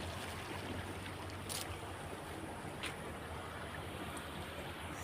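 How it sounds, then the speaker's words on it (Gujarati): Irrigation water running steadily through a field of val beans, a continuous low rushing wash with a few faint brief ticks above it, no voices. "પાણી હાલે છે"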